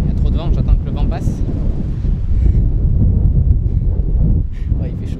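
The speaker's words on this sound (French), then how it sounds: "Il y a trop de vent, j'attends que le vent passe." Strong wind buffets an outdoor microphone in Thailand, a loud, continuous low rumble with gusty swells throughout, with brief faint higher sounds breaking through now and then.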